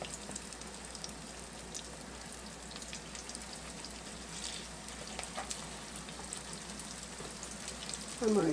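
Breaded chicken fries in a hot pan for smothered fried chicken, giving a steady, close crackling sizzle that runs throughout, with a slight louder burst near the end.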